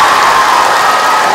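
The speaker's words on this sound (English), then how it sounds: "It's always funny to see the teachers clapping." Middle school students and teachers fill an assembly hall with steady, dense applause, a loud, even wash of clapping and crowd noise that holds without a break.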